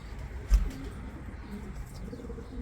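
Pigeons in a coop coo low and soft, one fuller burst near the start and then quieter murmuring over steady background noise. The coop keeps young birds and several pigeon breeds, including German, Polish and Spanish types.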